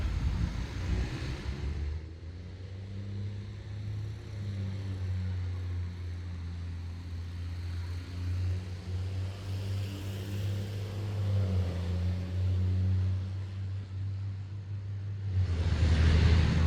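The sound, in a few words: army truck driving past loudly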